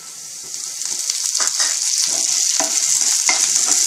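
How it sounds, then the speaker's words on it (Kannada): Chana dal and curry leaves frying in a pan, a steady bright sizzle with occasional stirring scrapes and pops, close and continuous with no talking. "ಇದನ್ನ ಕಡಲೆಬೇಳೆ ಸ್ವಲ್ಪ ಗೋಲ್ಡನ್ ಬ್ರೌನ್ ಆಗೋ ತನಕ ರೋಸ್ಟ್ ಮಾಡ್ಕೋಬೇಕು."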